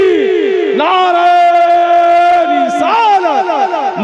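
A large crowd at a Muharram religious gathering in Sultanpur, Uttar Pradesh, shouts a slogan in unison in response to a speaker, a loud, sustained chant that swells and then falls away in overlapping voices.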